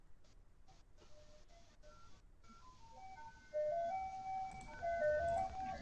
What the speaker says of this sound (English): I hear the ice cream man.